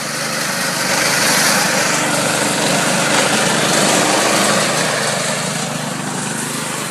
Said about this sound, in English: he is operating a slit seeder